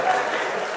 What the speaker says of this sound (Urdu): یہ تالیاں بجانا کب بند کریں گے ہم؟